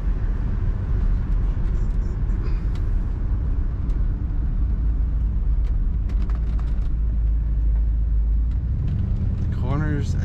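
A 1969 Buick Skylark Custom convertible drives along with its engine running, a steady low rumble and road noise holding constant throughout, with a brief higher sound rising near the end.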